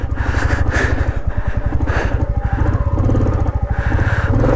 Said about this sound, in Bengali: আমি বুঝতে পারছি ইঞ্জিন ইজ স্ট্রাগলিং